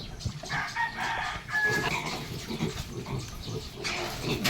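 Month-old piglets on a backyard farm squeal and grunt continuously and loudly at close range, with a rooster or chickens clucking and crowing mixed in among the busy animal noise.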